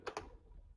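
Two quick, faint key clicks on a computer keyboard, close together at the start, followed by quiet room hush.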